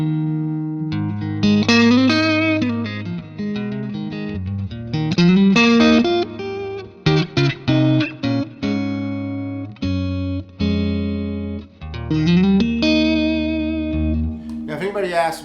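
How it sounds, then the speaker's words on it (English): A Fender Stratocaster on its neck pickup plays through a 3rd Power Clean Sink amplifier, with clean, ringing chords and single notes, some sustained, others in short punchy bursts, up close and prominent. "So first of all, I got my old trusty Strat here,"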